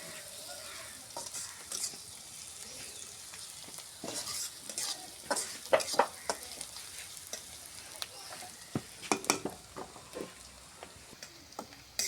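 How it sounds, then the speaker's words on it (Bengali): Chopped onions fry in a pan until reddish, a steady sizzle broken by scraping stirs and clinks that grow busier toward the end, with no one talking. "পেঁয়াজ কুচি দিয়ে দিলাম, পেঁয়াজটা লাল লাল করে"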